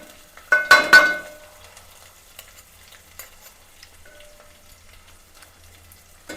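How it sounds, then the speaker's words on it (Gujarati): A spoon mixes yogurt raita in a bowl, a short burst of close, wet stirring and clinking near the start, then only scattered faint taps and near silence. "આપણે પેલા ચમચીથી મિક્સ કરી નાખીએ"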